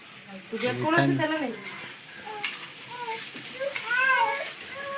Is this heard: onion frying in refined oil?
yes